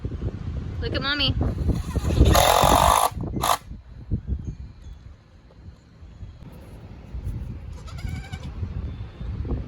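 Goats bleat a few times in short wavering calls, mixed with nearby voices, handling noises and a burst of rushing noise.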